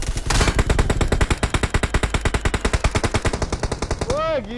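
Rapid automatic gunfire from a PUBG Mobile match, a dense, loud, steady burst of evenly spaced shots lasting about four seconds, ending with a short musical game tone.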